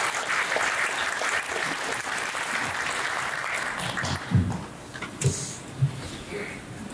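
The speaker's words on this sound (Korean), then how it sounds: "큰 박수로 맞이해 주시기 바랍니다." Residents at a neighborhood redevelopment briefing applaud to welcome an engineering firm director, a steady round of clapping that fades out, followed by a few footsteps and handling thumps near the microphone.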